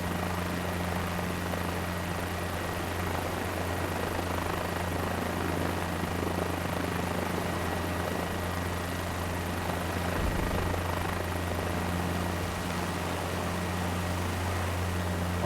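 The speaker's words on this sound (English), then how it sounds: "let's try to fly like a helicopter. Very, very slow descent." A helicopter in Microsoft Flight Simulator makes a steady, loud rotor and engine drone with a constant hum during a very slow descent, with no voices.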